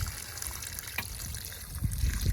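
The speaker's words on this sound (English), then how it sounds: "I'm going to give this a good drench" A watering can pours water into a potted rose, a soft steady trickle and splash that grows a little fuller near the end.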